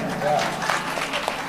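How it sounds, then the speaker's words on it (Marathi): An audience at a Marathi comedy kirtan breaks into clapping, a lively burst with a few sharper individual claps standing out, mixed with some voices. "एकदा स्वतःसाठी टाळ्या वाजवा."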